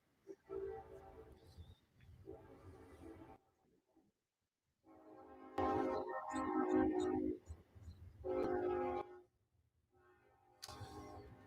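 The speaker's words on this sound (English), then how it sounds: "the train coming." An approaching train rumbles in several loud, uneven bursts with horn-like tones, swelling and dropping away with short quiet gaps between.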